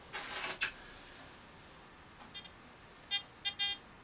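A metal detector sweeping over coins gives several faint electronic beeps: one early tone, a couple of short chirps, then three clearer beeps near the end, all against quiet background hiss.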